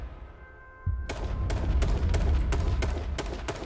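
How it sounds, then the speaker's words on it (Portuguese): Rapid gunshots in the battle royale game H1Z1, about nine sharp cracks in quick irregular succession over a low rumbling boom, loud and close with no talk. "Três tiros no maluco."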